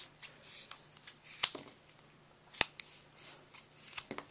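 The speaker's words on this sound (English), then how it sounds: "You can hear my scissors are squeaking against the rubber" Scissors squeak and snip against unmounted rubber stamp rubber in short, irregular bursts, close up, with quiet pauses between cuts and no talking.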